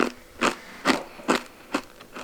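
Crisp, crunchy food is bitten and chewed close to the microphone, about six sharp crunches spaced roughly every half second, each a loud bright burst over quiet background.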